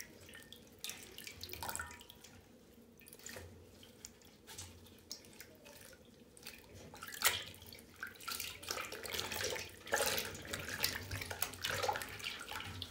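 Water runs steadily from a tap into a basin while ink-jet printed fabric soaks, a soft continuous splashing with occasional drips and no talking.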